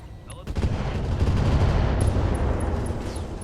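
Dense, sustained barrage of missile explosions and rapid gunfire in a military combat video game, loud and continuous for several seconds with no talk over it.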